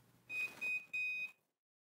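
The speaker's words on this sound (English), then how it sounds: "when the timer is done, it will alert us" A heat press timer finishing a 60-second press at 400 degrees gives three loud electronic beeps in a quick even series, with near silence after.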